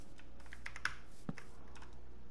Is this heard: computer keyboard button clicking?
yes